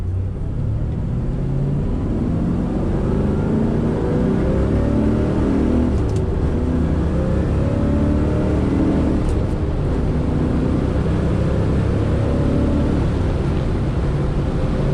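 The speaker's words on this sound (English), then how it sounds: "See, this thing just drives wonderful." A 1967 Corvette Coupe with the L79 engine and four-speed cruising along, its steady low engine rumble and road noise continuous and fairly loud throughout, with no talking.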